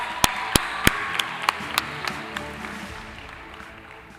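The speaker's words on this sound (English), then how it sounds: "a round of applause for all of this year's Silver Knight Award sponsors" Sparse, sharp handclaps from an audience at the annual Silver Knight Awards ceremony for award sponsors, about a dozen distinct claps that thin out and fade over a soft room hum.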